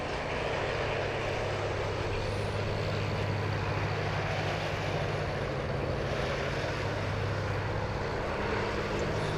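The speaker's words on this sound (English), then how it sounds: "it sounds like background airport ambience" Background ambience at Sydney Airport as planes arrive and depart: a steady, broad rumble of distant aircraft engines that holds evenly throughout, with no voices.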